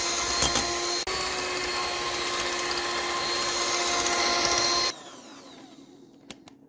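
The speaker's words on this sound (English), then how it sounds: "and I'll continue to mix this" An electric mixer whirs steadily and loudly through sugar, egg yolk and coconut oil for several seconds, then stops abruptly and leaves only faint handling noise.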